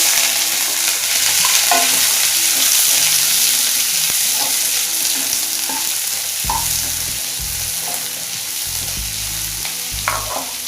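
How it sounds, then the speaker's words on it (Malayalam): Chopped onions frying with fennel seeds in hot oil for a clam meat roast, a loud, close, steady sizzle broken by repeated scraping stirs of a spoon in the pan, with no talking. "സവോള അരിഞ്ഞു വെച്ചത് അതിലോട്ട് ഇടുന്നു"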